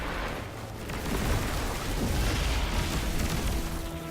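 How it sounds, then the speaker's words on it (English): A grenade going off in the Destiny 2 video game, a deep rumbling blast that swells after the first second and lingers, with low boomy game noise throughout. "One grenade just takes out all 3 of those."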